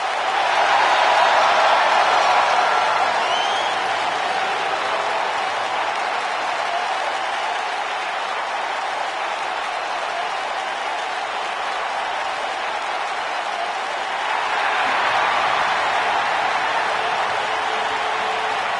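An arena crowd applauds and cheers steadily for wrestler Chris Jericho's entrance at an AEW steel cage match, a dense, even roar of clapping that swells again near the end.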